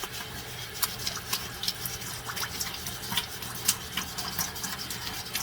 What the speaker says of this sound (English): I just run cold water